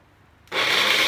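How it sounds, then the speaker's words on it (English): Pecan nuts being chopped for a chocolate pecan cake, a brief sharp rasping scrape that starts abruptly after a moment of quiet and holds steady, close and loud. "Okay, I'm gonna chop the nuts"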